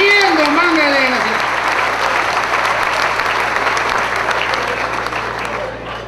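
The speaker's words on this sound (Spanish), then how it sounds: "Tendría que haber aplaudido una vez, aunque sea" A rural comedy show audience breaks into sustained applause, a dense wash of clapping that begins under a voice's trailing shout and then fades gradually toward the end.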